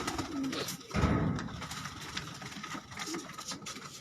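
Breeder pigeons coo in a loft setup, low throaty calls overlapping amid rustling and mechanical-sounding background noise, moderately close.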